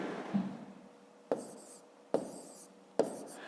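Pen writing numbers by hand on paper while working a long division problem, four short scratchy strokes spaced about a second apart, close and quiet with no talk.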